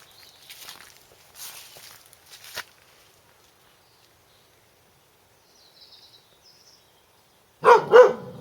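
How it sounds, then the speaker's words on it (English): A dog barks twice in quick succession near the end, loud and close, after a stretch of quiet with faint rustling footsteps earlier. "Okay, Jack, let's see who you're barking at."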